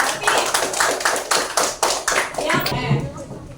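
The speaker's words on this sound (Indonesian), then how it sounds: "Beri tepuk tangan untuk semuanya" A classroom group claps hands together in a rhythmic series of sharp, bunched claps, loud and close, with voices mixed in throughout.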